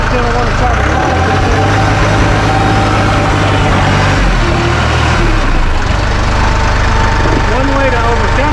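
A Massey Ferguson 1M or 2M eHydrostat tractor engine runs with a low, steady drone throughout, with a voice talking over it now and then.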